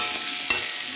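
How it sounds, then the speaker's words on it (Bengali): Potato and pumpkin frying with five-spice and onion, a soft sizzle broken by two brief scraping stirs, faint and close, no voices. "পাঁচফোড়ন আর পেঁয়াজ দিয়ে আলু আর কুমড়োটা ভাজছি।"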